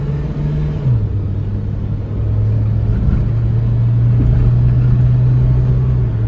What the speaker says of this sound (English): Quick little acceleration test. This is my foot all the way down.